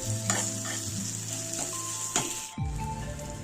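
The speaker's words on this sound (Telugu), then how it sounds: "ఇది బాగా కలుపుకొని ఈ విధంగా ముద్దగా రావాలి" A spoon stirs a softened tomato mixture in a hot pan, giving a steady sizzle with a few scraping strokes, close and clear, with no talking.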